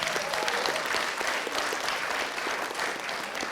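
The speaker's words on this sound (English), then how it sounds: "please join us in giving our distinguished panel a massive round of applause" An audience claps at length for a distinguished panel at a governance forum, a dense, even wash of many hands with some sharper individual claps standing out, no talk over it.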